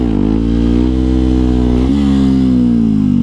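A 125cc four-stroke motorcycle revs hard and loud up close, its engine note climbing steadily with a brief dip and surge midway through the pull, no voices present.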